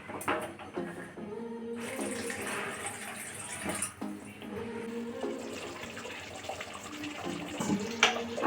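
Water is poured into a pan of paneer and the pan is then covered, giving a continuous close splashing, sloshing wash in a home kitchen.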